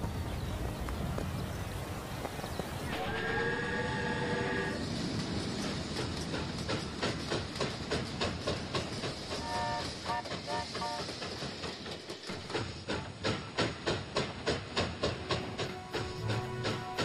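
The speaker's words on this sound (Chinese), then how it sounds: "一列挂满彩带的火车喜气洋洋地出现在新竹火车站" A festive ribbon-decked train on the newly opened Zhudong railway in Hsinchu, Taiwan in 1947 rolls past steadily, with loud rhythmic clickety-clack of wheels over rail joints and bright horn-like tones near the start, no voices.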